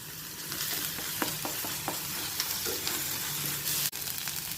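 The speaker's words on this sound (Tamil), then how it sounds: "வெங்காயம், பூண்டு, கறிவேப்பிலை கொஞ்சம் வதங்கி வந்தாச்சு" Onion, garlic, curry leaves and ginger sauté in a pan for a Kerala fish curry, a steady close sizzle broken by a few stirring scrapes and taps.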